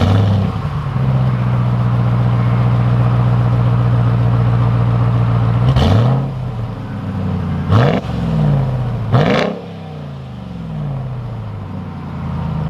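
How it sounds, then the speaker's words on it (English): A 2021 RAM TRX pickup truck's engine starts and settles into a deep, rumbling idle, then gets three sharp, loud revs that rise and drop back quickly, close by. "This is a start up and some revs on a 2021 RAM TRX."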